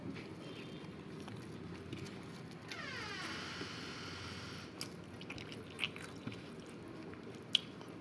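Someone eats a dinner thali, quiet close-up chewing and soft squishy bites with a few small clicks and taps against a low, steady background.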